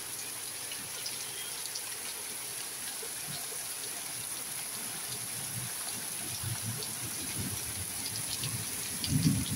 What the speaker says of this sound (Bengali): খুব বৃষ্টি পড়ছে আমাদের।